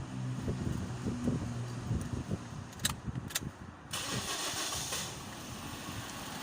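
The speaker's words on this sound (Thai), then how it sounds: "จะสตาร์ทหน่อย โอ้ยเครื่องสั่น" Toyota Vios engine cranking over and catching, then running with a rough, shaky idle; low rumbling throughout with a couple of sharp clicks midway and a steady broadband wash of engine and wind noise near the microphone.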